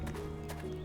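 Horses in city stables in the video game Minecraft on the WesterosCraft server, with a short, quiet run of hoof clip-clops and whinnying sounds heard alone.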